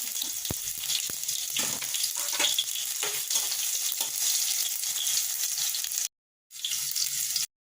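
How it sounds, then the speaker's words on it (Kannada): Mustard seeds and chopped onion fry in hot oil in a pan, giving a steady, loud crackling sizzle with a few sharp pops and stirring scrapes, then a brief break before the sizzle resumes. "ಸಾಸಿವೆ, ಈರುಳ್ಳಿ ಹಾಕಿದ್ದೀನಿ."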